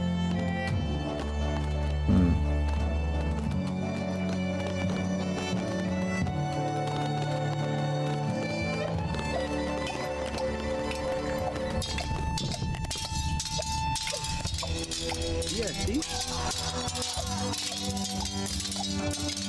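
Horses galloping in the 0 A.D. strategy game during a battle, a steady clip-clop of hooves blended into a dense, continuous mix of music and combat sounds.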